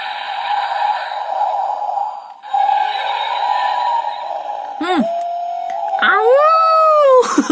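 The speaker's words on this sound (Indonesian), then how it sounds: "Jadi dia yang Ouroboros ini sekali muncul ada sound yang ini ya, aungan yang serigala guys ya." DX Ultraman R/B Ouroboros crystal toy plays an electronic wolf howl, a loud close synthesized wail with sliding, warbling tones and brief electronic sweeps, broken by a short gap partway through.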